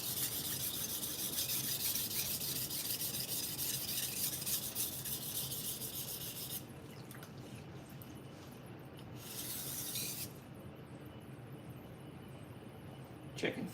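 Knife blade stroked repeatedly across a sharpening stone in a cutler's shop, a continuous raspy rubbing that softens and pauses briefly partway through, with a voice talking quietly beneath.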